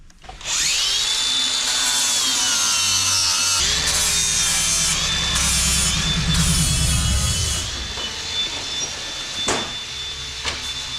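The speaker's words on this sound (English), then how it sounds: "Now we're going to grind that smooth and flat." A power grinder works a crank jack part smooth and flat, a loud sustained whine with shifting pitch and a rough grinding rasp, then easing off into quieter tool noise and a few sharp knocks.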